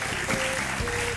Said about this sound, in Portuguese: Um grande aplauso para a nossa dupla vencedora